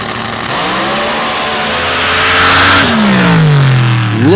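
A drag racing car roars loudly through a full pass in an open-class final, its engine screaming at high revs. The pitch climbs steadily, then drops sharply and sweeps downward as the car shifts and passes by.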